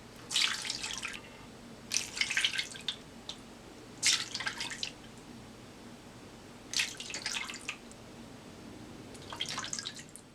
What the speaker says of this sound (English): I'm going to start straining it for the second time